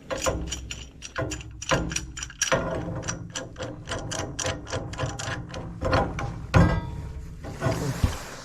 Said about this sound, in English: Just tighten the union up.